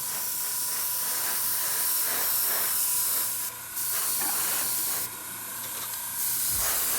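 Hairspray misting from an aerosol can onto a model Brummbar tank hull over dark brown paint, a steady close hiss running almost continuously with two short breaks.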